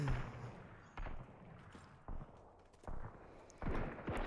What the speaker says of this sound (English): why are they shooting, though?